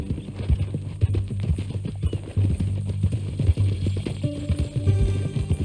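Horse hooves clip-clop steadily in Red Dead Redemption 2, a close, rhythmic series of footfalls over a low rumbling background, with a short whinny-like tone near the end.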